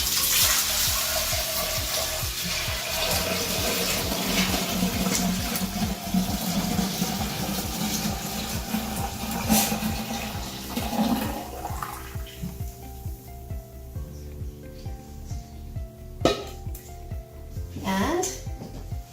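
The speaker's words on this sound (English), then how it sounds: "Now I'll just pour it right into my kombucha jar that I'll be using for fermenting." Kombucha tea poured into a fermenting jar, a steady splashing liquid stream running throughout with faint background sounds, quieter splashes near the end.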